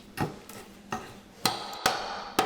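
A hammer strikes wooden scalloped trim on kitchen cabinets during a teardown, five sharp separate knocks spaced roughly half a second apart, close and fairly loud, with no talk.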